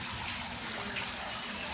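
Steady rushing flow of water from a water feature in a glasshouse conservatory, a broad continuous wash of splashing that stays even and close throughout, with no voices.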